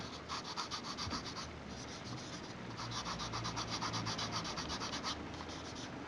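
Close, steady scratchy rubbing of the rough textured grip of a Logitech G700 mouse, continuous with slight rhythmic strokes, no voices.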